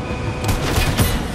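Gunfire in the video game Fortnite: two loud, sharp shots about half a second apart, ringing out over dense in-game background noise.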